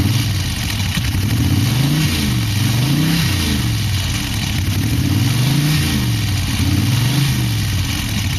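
A Magni Sfida 1000S motorcycle with a 1000cc V-twin engine revving up and down in repeated smooth swells, loud and close, each blip rising and falling over a steady rumbling idle.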